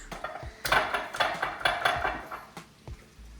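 Mayonnaise spooned into a container, with a metal spoon clinking and scraping against the dish in quick uneven knocks. The sounds are close and fairly loud, with no talking.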